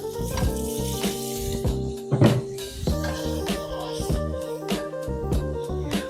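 Butter melting in a hot pan just after bacon was removed, a steady close sizzle and fry with occasional stirring clatter, continuous and fairly loud throughout.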